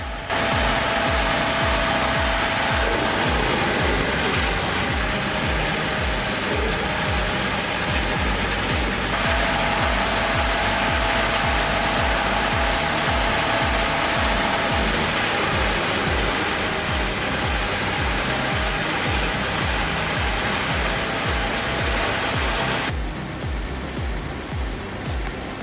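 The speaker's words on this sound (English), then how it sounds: "The conveyor delivers timber straight into the cutters, producing perfectly uniform chips discharged in a steady stream." A large industrial wood chipper, the Jenz HEM 1000, with a conveyor feeding timber into its cutters, gives a loud, unbroken roar and grind, with high whines that rise and hold steady as the load shifts.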